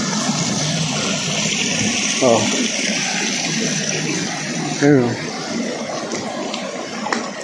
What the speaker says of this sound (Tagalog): Ito isa pang batis oh.